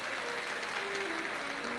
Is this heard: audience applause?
yes